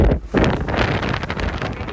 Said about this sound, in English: It's actually really windy there.